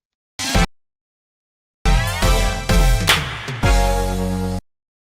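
New Nintendo Switch 2 Joy-Con controllers make their attaching sound: a short snap, a pause, then a run of close, loud clicks and rattling plastic knocks.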